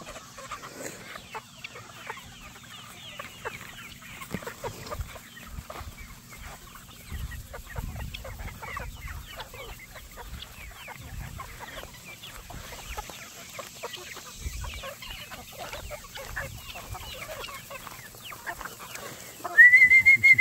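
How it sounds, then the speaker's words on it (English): A flock of chickens clucks and murmurs continuously nearby, with soft scattered calls and a whistle near the end and no one talking. "Chick, chick, chick, chick, chicken, chicken, chicken heads."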